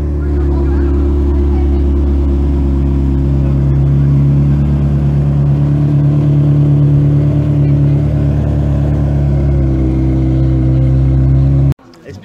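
Several Ferrari sports cars rolling in to a rally, a steady loud engine drone with layered low tones held for about twelve seconds before cutting off abruptly.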